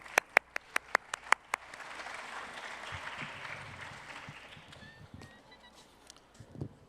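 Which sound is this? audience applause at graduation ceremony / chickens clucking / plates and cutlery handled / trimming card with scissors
audience applause at graduation ceremony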